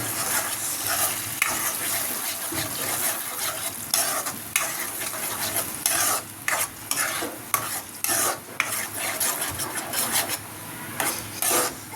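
Homemade ground masala paste sizzles in a pan while a spoon scrapes and stirs it in repeated strokes over a steady, close frying hiss, with no talking.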